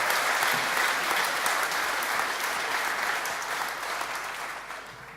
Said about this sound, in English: Some excellent cheering, really good cheering.